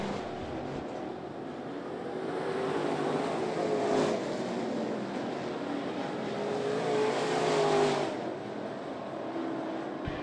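Pro Late Model race cars at Ponderosa Speedway on the final lap of a heat, a steady roar of several engines that swells twice as the pack passes, heard from a distance with no talk.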